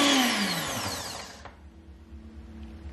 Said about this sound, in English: I think I'm just gonna give it one last blend.